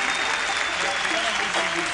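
Audience applause at a live Persian concert at the Royal Albert Hall, 1987, a dense, steady wash of clapping filling the hall from start to finish.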